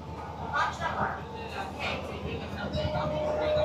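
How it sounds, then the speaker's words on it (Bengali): Sealdah–Ranaghat AC local train, West Bengal's first air-conditioned suburban service, rumbling along between Naihati and Kanchrapara, a steady rolling drone with a faint tone creeping in near the end, and a voice speaking over it throughout. "নৈহাটি ছাড়ার পর আমাদের এই ট্রেন কিন্তু এবার দাঁড়াবে কাঁচরাপাড়াতে।"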